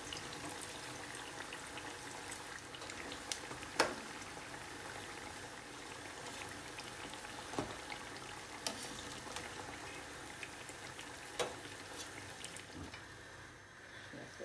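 Brinjal (aubergine) pakora bubbling in hot oil, a soft steady fizz with occasional faint pops and clinks, quiet and continuous with no talking.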